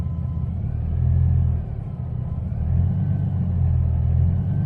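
A Mercedes SLK32 with a 722.6 automatic and upgraded torque converter is held on the brake in gear for a stall test. The engine drones with a deep, loud, steady rumble that swells twice.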